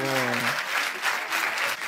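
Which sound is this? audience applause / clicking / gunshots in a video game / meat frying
audience applause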